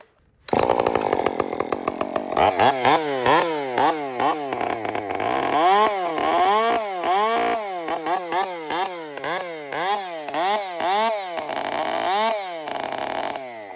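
A chainsaw fitted with an Oregon full chisel skip chain starts up and cuts, its high buzzing whine rising and dipping repeatedly as the throttle bogs and recovers under load; close, loud, alone.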